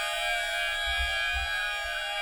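An ambient synth pad with heavy reverb in an electronic music remix: a sustained, shimmering chord with many layered tones that holds steady throughout, with a soft low rumble swelling underneath.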